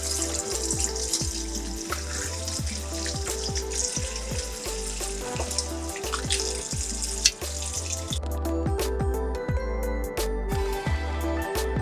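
Water runs steadily from a tap, splashing as dandelion roots are rinsed to wash off the dirt, a constant hiss broken by rhythmic thumps, with the flow easing off near the end.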